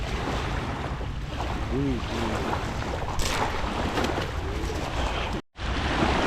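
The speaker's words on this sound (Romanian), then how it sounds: "Sunt valuri ca la mare. Bate vântul de rupe din față." Strong wind and choppy waves on Lake Mihailesti, a continuous rushing roar of gusts and water close to the microphone with brief wind buffeting, a faint bird call and a sudden short dropout near the end.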